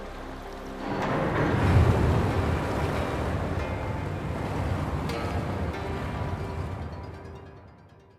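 Water drains away in Wuthering Waves as a broad rushing, surging wash that swells early on, holds steady, then tapers off toward silence at the end, fairly close and without any voices.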